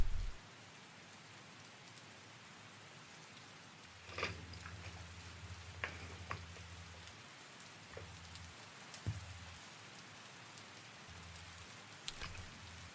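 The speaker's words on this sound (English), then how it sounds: "And now we're back to rain." Steady rain falling on surfaces, a continuous hiss with scattered louder drops and patter, moderately quiet and even throughout with no voices.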